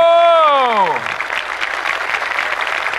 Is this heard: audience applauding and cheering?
yes